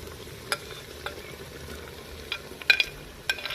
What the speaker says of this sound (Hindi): टमाटर को भी हम साथ साथ ही गला लेंगे और थोड़ी देर के लिए इनको अच्छे से हम भून लेंगे